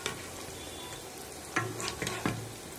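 Nimki, a fried dough snack, crackles in hot oil with a steady broadband sizzle, broken by a couple of sharper scraping or stirring knocks near the end; no talking.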